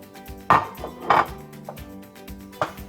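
Grated Gouda cheese being mixed into macaroni in a bowl, with a few distinct scraping, clattering strokes spaced apart, close and fairly loud, no talking.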